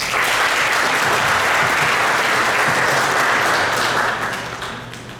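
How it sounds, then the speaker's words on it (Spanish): Loud, dense audience applause at a business financing event fills the space without a break, then begins to taper off toward the end. "Fuertes aplausos, por favor."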